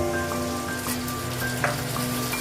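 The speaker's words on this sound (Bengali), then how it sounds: "এখন আমি জাস্ট অল্প করে জল দিয়ে দিচ্ছি" Spice masala frying in oil hisses and sizzles steadily as a little water is poured in, a close, bright, continuous crackle with faint stirring and no voices.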